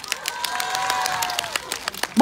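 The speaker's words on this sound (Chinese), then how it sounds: "那我们让我一起用掌声欢迎走在前面的" An audience at a Shanghai film roadshow for the movie Qingya Ji applauds to welcome the arriving actors, with scattered crisp claps rising and falling over a faint background tone and a brief louder burst at the very end.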